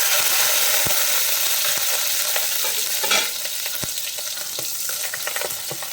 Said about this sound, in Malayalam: എണ്ണയ്ക്കകത്ത് നമ്മുടെ വെളുത്തുള്ളി ക്രഷ് ചെയ്ത് ഇടാം